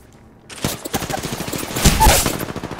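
Rapid automatic gunfire from a video game shooter in Apex Legends bursts in after a brief quiet moment, a fast rattling volley of close, loud shots that keeps going to the end.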